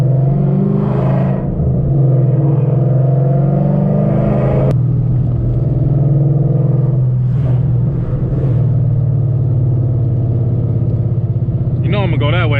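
A Ford Mustang running E85 with full bolt-ons drones loudly from inside the cabin, rising and falling in pitch as it revs and accelerates, with road noise throughout.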